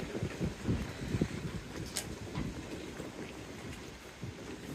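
Gusty wind blowing in the aftermath of Hurricane Milton, a faint, continuous rushing outdoors with scattered soft knocks and rustles, no one talking.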